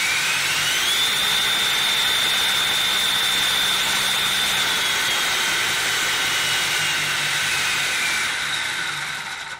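RC car motor spinning up on a dyno, a loud high-pitched whine that climbs in pitch and holds steady for several seconds before fading slightly near the end.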